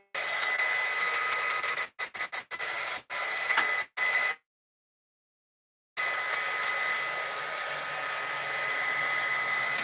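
A heat tool blows steadily to dry ink splatters for card stamping, a loud even whir that cuts off briefly several times and stops for a second before starting again.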